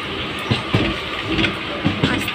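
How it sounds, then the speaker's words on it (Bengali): Train slowly rolling into Sealdah station in Kolkata, a low continuous rumble with occasional knocks and clunks of wheels, while a person talks over it. "শিয়ালদায় ঢুকলে এরকম আস্তে আস্তে করে ট্রেনটা যায়।"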